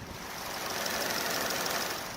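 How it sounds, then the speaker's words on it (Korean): Genesis G80 with a 2.5 gasoline engine and AWD idles with the hood open, giving a steady, quiet, smooth hum and faint whir heard up close, with no talking. "이렇게 더울류 G80 차량 엔진 사운드 들려드리기 위해서 본네트 개방 한번 해봤는데요"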